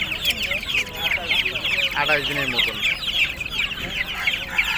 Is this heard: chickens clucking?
yes